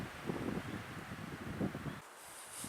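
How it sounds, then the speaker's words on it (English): Cold wind gusting at a backcountry campsite along a hiking trail, a rough rumbling rush buffeting the microphone in uneven surges, then dropping to a thinner hiss near the end. "It's a little windy and cold out today."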